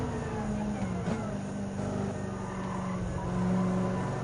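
A race car in Gran Turismo 7 holds a steady, sustained engine drone under acceleration, with the pitch rising slightly and the level swelling near the end.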